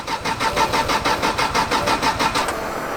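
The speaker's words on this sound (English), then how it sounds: "The fuel pump's turning on and off." A drift car's engine cranking over with a rapid, rhythmic starter churn of about a dozen pulses, loud and close, before settling into a steadier hum.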